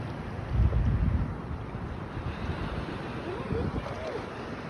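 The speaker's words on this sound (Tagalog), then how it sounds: "There are big waves guys." Big ocean waves breaking against rocks by the sea, a heavy surging wash with a louder crash at the start and then steady roaring surf mixed with wind noise, close and loud.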